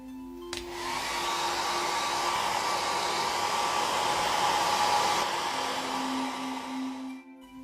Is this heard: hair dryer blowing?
yes